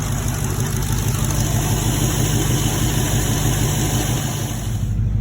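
A 2019 Dodge Charger Hellcat engine idling steadily with a low, even rumble and a constant whine above it, close and loud throughout, fitted with a 180-degree thermostat.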